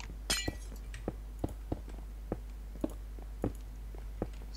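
Glass blocks break one after another in a multiplayer block-building adventure game. About a dozen sharp, crisp clinks and cracks come at irregular intervals over a low steady hum.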